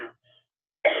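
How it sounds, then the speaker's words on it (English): A person coughs in a quiet room, two short harsh bursts separated by a brief pause and near silence, close and moderately loud. "So I'm coughing."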